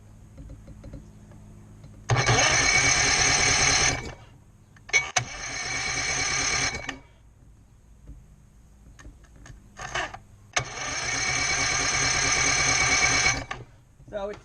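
Starter cranking a 1966 Johnson 33hp Super-Horse outboard motor with its spark plugs removed: three loud, steady whirring bursts of a couple of seconds each, separated by pauses, with a brief blip between them.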